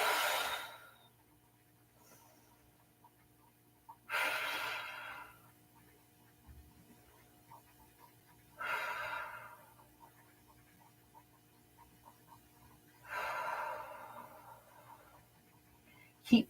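Deep breaths during a stretching exercise, four long airy inhales or exhales spaced a few seconds apart, close and fairly soft, with quiet pauses between.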